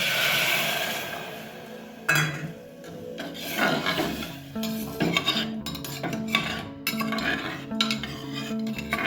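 Rice being stirred as it lightly fries in a pan for a jaggery rice pudding: a spoon scrapes and clinks against the pan in repeated close strokes, with rubbing and rasping grain sounds between.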